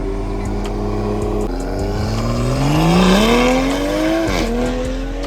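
Camaro SS 1LE pulling away from a cars and coffee meet, its loud engine revving and rising in pitch before shifting, close by and dominating the scene alone.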